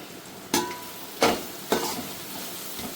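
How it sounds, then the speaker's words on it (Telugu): Priya biryani masala is stirred into half-cooked rice in a pot, three distinct scraping stirs about half a second apart over a faint steady sizzle, close and without talk. "బాగా మిక్స్ చేసుకోవాలి."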